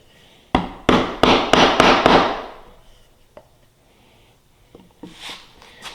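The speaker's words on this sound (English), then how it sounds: "You bring that rabbet up short, and then you just square off the corner with a chisel." A chisel struck with a mallet squares off a rabbet corner in wood, six sharp, evenly spaced close knocks followed by a few fainter taps and light scraping.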